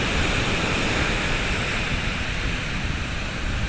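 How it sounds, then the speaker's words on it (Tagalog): Six-foot ocean waves crash onto a beach and suck back with a strong pull, a steady loud roar of surf and churning water filling the whole stretch without pause. "malaking alon na biglang babagsak na may malakas na higop ng pagbagsak"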